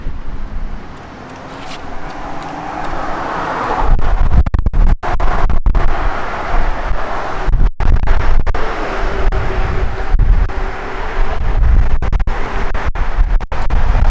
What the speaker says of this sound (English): The wind's whipping so bad